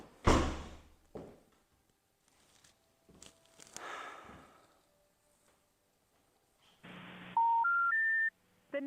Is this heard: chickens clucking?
no